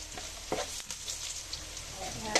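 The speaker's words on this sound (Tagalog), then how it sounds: "ang ating kawali ay lalagyan natin ng mantika. Isusunod natin ang ating bawang. Lalagyan na natin ang ating sabaw." Garlic and broth frying in oil in a pan, giving a steady sizzle with faint scrapes and clinks of stirring, close and alone.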